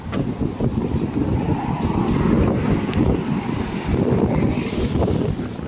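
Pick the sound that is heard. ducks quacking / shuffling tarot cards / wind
wind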